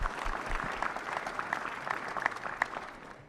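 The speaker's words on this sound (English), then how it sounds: "a round of applause" Applause at a boxing press conference for the Bivol vs. Ramirez fight: moderate clapping from a modest crowd, steady and fairly close, fading slightly toward the end.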